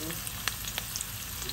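Onions frying in a pot for a carrot stew, giving a steady, close broadband sizzle with a few faint pops and clicks, with no talking.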